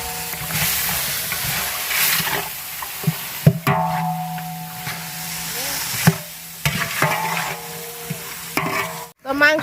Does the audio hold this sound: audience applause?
no